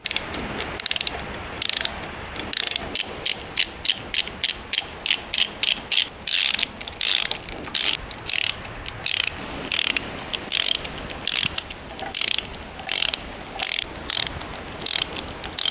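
A ratchet tightens bolts on an engine test stand holding a 1970 engine, with rapid bursts of loud, close clicking strokes repeated in quick succession, some longer runs and short pauses between them.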